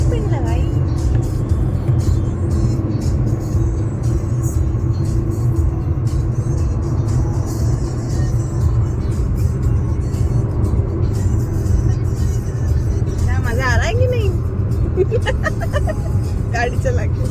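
An SUV runs along a road on a drive from Delhi to Mussoorie, with a constant low engine and road rumble throughout and people talking over it.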